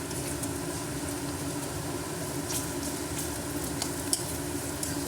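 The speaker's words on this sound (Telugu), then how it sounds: "అల్లం వెల్లి పేస్ట్ అండి కలిపేసుకుందాము" Ginger garlic paste is stirred and fried in a pan, a steady dense sizzle with faint scraping from the spoon, continuous and close, no voices.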